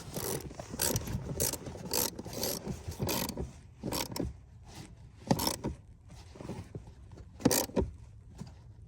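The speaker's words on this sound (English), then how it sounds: "So you tighten them down, and I usually go just an extra quarter turn as soon as they snug down." A ratchet wrench tightens bolts into the plastic housing of a blower motor resistor on a Chevy Trailblazer, giving quick bursts of close clicking separated by short pauses, fairly quiet.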